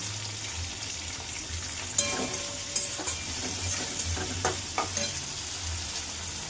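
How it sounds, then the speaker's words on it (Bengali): Vegetables frying in a hot pan, a steady sizzle with occasional stirring scrapes and clinks of a utensil against the pan, moderately quiet and continuous. "এবার দিলাম আলু।"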